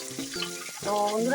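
Eggplant frying in a pan, a steady close sizzle under a brief spoken phrase that rises a little louder toward the end.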